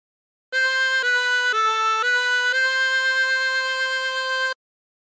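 A 24-hole tremolo harmonica plays a short phrase of Aura Lee, a few sustained reedy notes changing pitch at about half-second steps before one long held note, clear and alone.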